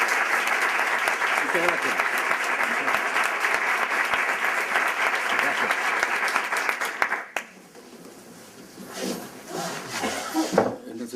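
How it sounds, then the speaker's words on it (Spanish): Strong audience applause for a flamenco guest at a university talk, a loud sustained wash of clapping for about seven seconds that cuts off abruptly, followed by a brief spoken thanks and a few faint knocks. "le pido un fuerte aplauso"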